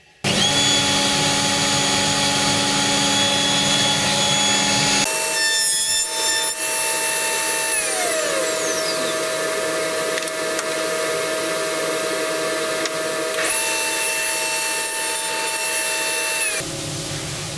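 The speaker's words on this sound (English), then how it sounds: "hopefully you could hear over the sound of the dust extractor that when we flipped 180 and passed back over again, there was the merest touch of the rotor bit" A router bit cuts dovetails in timber on an Incra jig while a dust extractor roars steadily, the loud tonal whine of the machines holding throughout with shifts in pitch as passes begin and end.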